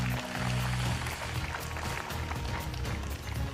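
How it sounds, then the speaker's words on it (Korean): Clapping from attendees at a memorial ceremony for Imjin War volunteer monk soldiers at a mountain temple, a steady crowd patter over a low droning hum that runs throughout. "큰 박수 주시기 바랍니다"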